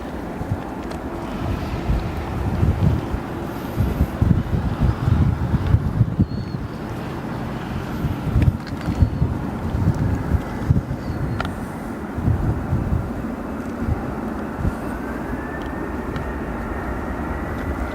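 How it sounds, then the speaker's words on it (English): Delta Airlines Airbus A220 arriving at O'Hare International Airport from Boston, a steady low jet engine roar with gusty wind buffeting the microphone, rumbling on continuously at moderate distance. "This arrival, Delta Airlines Airbus A220 arriving from Boston."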